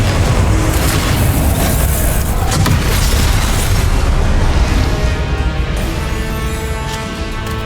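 Loud Confringo spell explosions in the Hogwarts Legacy video game, a dense roaring wash of blasts and crackling bursts that fades a little toward the end.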